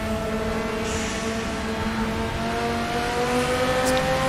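A race car in a sim racing game accelerates at Monza, a steady, loud engine drone with gradually rising pitch that continues uninterrupted throughout.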